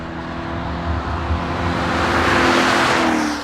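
A Dodge Durango SRT Hellcat SUV accelerating hard, its supercharged engine building from a steady drone into a loud, rising roar with a whining edge, heard up close with no talk.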